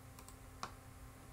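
Faint keystrokes on a computer keyboard while entering data in Access 2013: a few soft, scattered clicks with one sharper tap, over a low steady hum and no speech.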